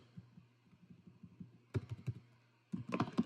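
Computer keyboard keys pressed in short irregular bursts, with a soft, quiet run of taps followed by louder, sharper clusters of clacks, heard alone during a C programming lesson.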